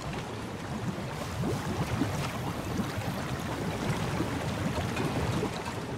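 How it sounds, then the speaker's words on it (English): Water bubbles and churns steadily in Far Cry New Dawn, a soft, continuous watery wash with no voices over it. "There's a lot of water bubbling sounds."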